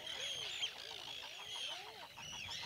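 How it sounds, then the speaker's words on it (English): A nesting colony of common eider ducks on an Icelandic farm, with overlapping low cooing and honking calls rising and falling steadily, several birds calling close by with no talk. "The farmer treads carefully about the eider colony, doing his best not to startle the birds."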